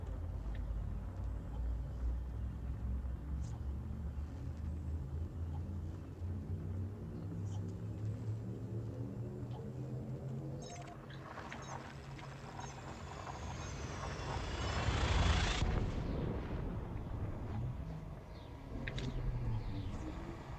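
Spaceship hyperspace jump in a video game, a rising, swelling whoosh that builds over a low rumble and peaks in a bright surge before settling back into a steady drone.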